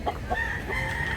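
Chickens and a rooster at a cheap chicken market in Mantalungon, Cebu: brief clucks and a drawn-out crowing call, moderately near, over a dense background of other fowl.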